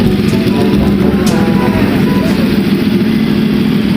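A Yamaha R1 crossplane motorcycle engine with a new SC Project exhaust idles steadily with a deep, rumbling exhaust note, loud and close, holding a constant throb throughout.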